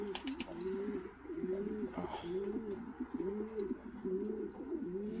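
Breeding pigeons coo in a loft, a steady repeating throaty rolling call recurring every second or so, close by, with a brief flutter of wings near the start.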